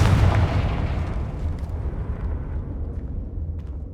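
A Confringo fire spell blast in the Hogwarts Legacy video game, a loud booming burst right at the start that rumbles and fades slowly over several seconds, heard alone.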